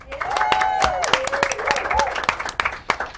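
Audience at a local talk-show taping applauding a guest, scattered sharp claps with voices and a whooping cheer over them, brief and close.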